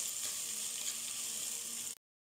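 Onion, tomato, chili and palm jaggery sauté in a pan with a steady, dense sizzle held close and even for about two seconds before it cuts off abruptly; no speech.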